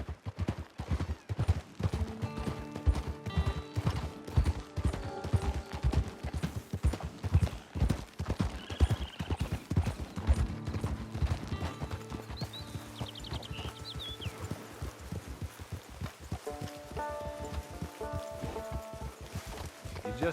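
Horse hooves clip-clop at a steady walking rhythm in Red Dead Redemption 2, close and continuous for about twenty seconds, with a soft musical score underneath and occasional faint other sounds.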